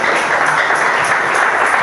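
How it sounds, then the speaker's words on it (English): A congregation claps hands at a church thanksgiving service, a dense, continuous wash of many hands close by and loud, with no distinct individual claps standing out. "Clap your hands for Jesus."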